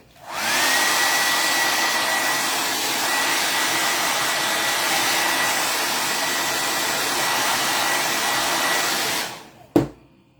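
A hair dryer blows on craft paint to dry it, roaring steadily and loudly at close range for about nine seconds before it shuts off with a short clunk.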